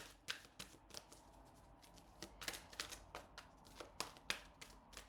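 Tarot cards are shuffled by hand in a quiet room, a soft, irregular run of riffling flicks and taps, close to the mic and fairly faint, with no talking.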